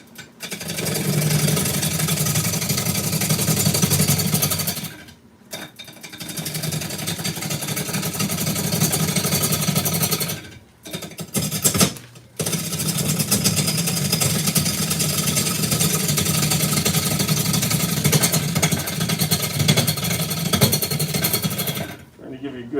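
A wood lathe spins a bowl blank, a loud, steady mechanical whir with a low hum that holds for long stretches and cuts out briefly twice before starting again.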